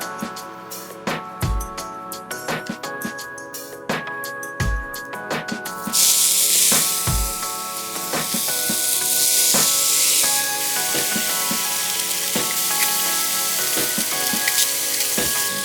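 Eggs frying on a very hot Thermador Freedom induction griddle, a steady close sizzle that swells and stays loud, with occasional clinks and taps of a utensil on the cooking surface.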